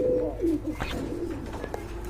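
Yellow Danish pigeons at a bird market give a soft, low cooing call with a brief chirp, heard close against steady background murmur.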